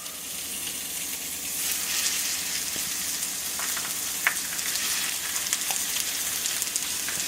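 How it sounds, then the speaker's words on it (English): Folded, curry-spiced food fries in a hot pan with two tablespoons of olive oil, a steady close sizzle running throughout with a few small pops and crackles, no voices. "We're going to bring it over to our hot pan with 2 tablespoons of olive oil."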